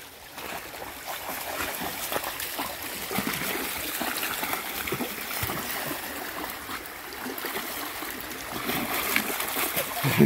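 Water splashes and trickles steadily in a shallow creek where a puppy sits, with scattered small splatters, close by.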